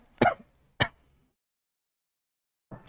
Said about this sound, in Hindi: इतनी खांसी हो रखी है